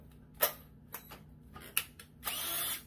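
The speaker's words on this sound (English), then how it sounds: "Jobs like this, definitely prefer the drill." A power drill works on an old 1980s Yamaha PW80 motorcycle, giving several short bursts of whirring followed by a longer sustained run, close and moderately loud, with no talk.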